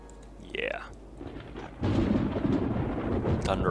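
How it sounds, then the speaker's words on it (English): Thunderstorm in the video game Cities: Skylines, with a sudden loud rumbling thunder crash that rolls on to the end, preceded by a brief voice and quieter background sounds. "Thunderstorm."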